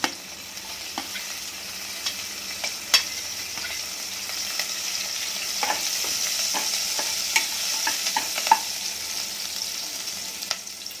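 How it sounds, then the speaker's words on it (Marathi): Green chillies frying in oil alongside golden garlic for a dry cluster bean dish, a steady close sizzle with scattered sharp pops and crackles throughout. "लसूण आता आपला सोनेरी झालेला आहे। हिरवी मिरची टाकू,"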